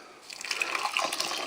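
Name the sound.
pouring boiling water into a cup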